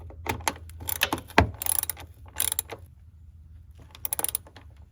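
A ratchet drives a 10mm bolt to mount a mud flap bracket on a 2019+ Chevy Silverado. Up close it gives bursts of rapid clicking separated by short pauses, with a final run of clicks near the end and no talk.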